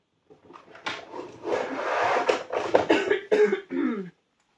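A few rough coughs from someone who is ill, with throat-clearing bursts close to the microphone, separated by short pauses, with no talking.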